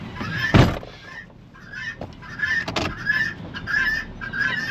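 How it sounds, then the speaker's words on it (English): Roosters and guinea fowl calling in a farmyard: repeated harsh honking cries in quick bursts, moderately near, with a louder squawk early and a steady chattering rhythm of calls after, no talk. "Got a lot of roosters, it looks like. I got some guineas over there too."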